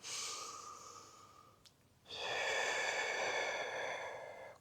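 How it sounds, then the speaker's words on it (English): A slow, deep breath, a long inhale that fades into a pause and is followed by a fuller, louder exhale, close and quiet during a calm guided relaxation session. "Just take a nice deep breath."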